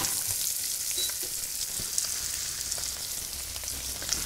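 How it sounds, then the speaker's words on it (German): Cod wrapped in bacon fries in a pan, a continuous bright sizzle with soft crackles and pops, close and steady throughout. "Dann bleibt der Speck schön rundherum am Fisch. Und da brutzelt es auch schon"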